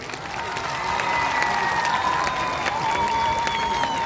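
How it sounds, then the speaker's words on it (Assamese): A large crowd at an Assamese cultural event, a Dihanam devotional performance by thousands of mothers, breaks into applause that swells after a moment and holds as a broad, sustained wash of clapping and crowd noise. "মই সকলোকে একেলগতে হাত তালি বজাবৰ কাৰণে অনুৰোধ কৰিছোঁ।"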